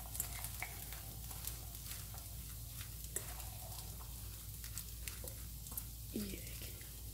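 Chicken tikka salad being tossed with homemade dressing in a bowl, soft wet stirring and squishing sounds with light taps, faint over a steady low hum.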